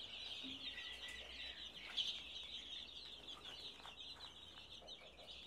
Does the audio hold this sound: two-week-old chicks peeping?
yes